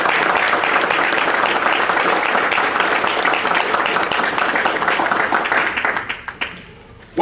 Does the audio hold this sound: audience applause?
yes